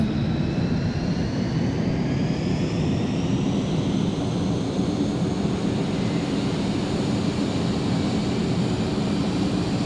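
An F-35 Lightning jet engine in Microsoft Flight Simulator on Xbox Series X/S, a steady, loud, broad roar with a slowly shifting high whine, unbroken throughout.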